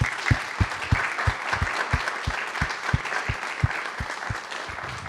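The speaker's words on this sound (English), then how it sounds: "I think we should do another round of applause for everyone" Audience applause at a team product presentation, a dense wash of clapping with a steady rhythmic thump of low beats running under it, fairly loud and close throughout.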